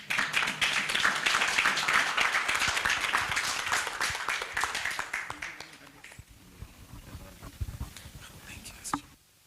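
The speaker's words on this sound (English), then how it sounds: "Could we give another hand clap for that?" An audience at a union annual general meeting applauds, a loud, dense burst of clapping that gradually thins and fades to scattered claps and quiet murmuring.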